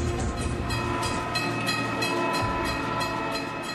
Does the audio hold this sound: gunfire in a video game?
no